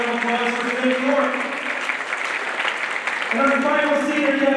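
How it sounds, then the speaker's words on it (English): Applause from a crowd at a high school boys basketball senior night, a steady, dense clapping that holds for several seconds with a loud announcer's voice over it. "Let's hear one more round of applause for Finn Bjork."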